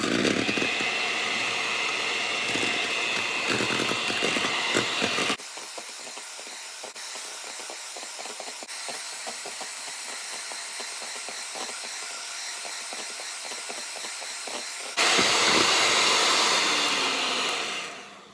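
Electric hand mixer whirring steadily as it beats a frothy meringue mixture with added sugar, a continuous loud high buzz that dips slightly midway then rises again before cutting off at the end.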